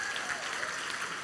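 A congregation clapping at a worship conference, a dense, even wash of applause filling the space from start to end, fairly soft.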